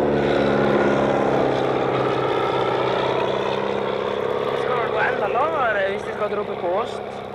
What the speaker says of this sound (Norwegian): Fly kretser stadig over demonstrantene og kaster bunker med aviser,